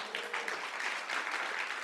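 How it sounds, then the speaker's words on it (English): A workshop audience applauds, a soft, fairly distant wash of many hands clapping continuously for a couple of seconds with no talk over it. "Can you give yourselves a huge round of applause?"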